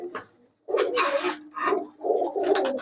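Rajshahi Giribaz high-flyer pigeons cooing nearby in low, throaty bursts, a few repeated calls close together with brief pauses between them.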